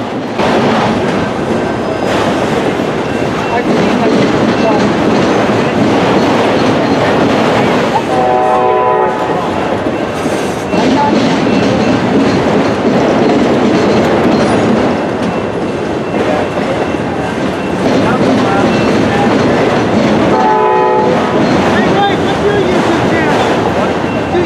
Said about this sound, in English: The next train on the list is CSX train Q215, coming around the corner to head north towards Toledo